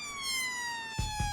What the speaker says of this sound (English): Scott presses this button to turn the flashing lights and siren on.